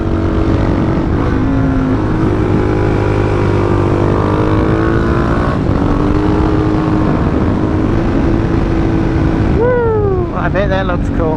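Motorcycle engine with no clutch working, changing down through the gears at night, its steady drone under continuous talk, with a rising pitch sweep near the end.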